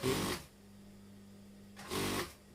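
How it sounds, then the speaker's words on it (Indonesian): A sewing machine runs two short bursts stitching a 1 cm seam on a Kasumedangan garment, each burst loud and close, separated by a quiet pause with a low steady hum. "Setelah itu kita jahit 1 cm"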